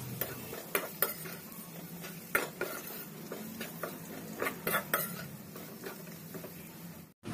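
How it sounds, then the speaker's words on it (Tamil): Spoon stirring spice powders into a pot for bitter gourd curry, irregular close scraping and clinking taps against the metal over a faint background hum. "எல்லாத்தையும் நல்லா mix பண்ணிக்கோங்க"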